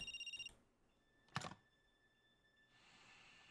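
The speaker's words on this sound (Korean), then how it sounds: "전화 온다." A telephone rings in short electronic trills inside the video game OutRUN, followed by a brief clatter and then quiet background hum.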